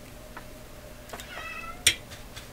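A cat gives a short meow with a faint sharp click after it, quiet and close, in an otherwise still room.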